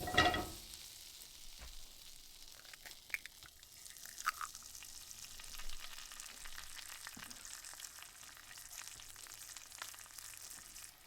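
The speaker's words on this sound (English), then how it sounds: "I'm going to try to fry an egg in it." An egg frying in oil in a seasoned cast iron skillet, giving a steady close sizzle with a loud crackle at the start that settles into an even, continuous hiss.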